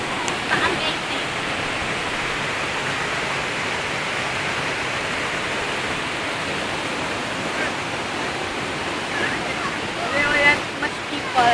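A waterfall roars as a steady, dense wash of rushing water, with tourists looking on; it continues unbroken throughout, with voices chattering faintly beneath it.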